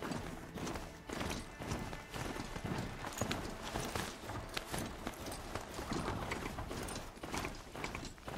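Horse hooves clip-clop rapidly in a steady galloping rhythm in the video game Horizon, loud and continuous with some mechanical clicking mixed in and no talk.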